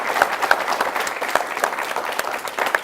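Steady applause from an audience honouring the Mangalyaan Mars mission team, many hands clapping at once with no break, moderately loud throughout.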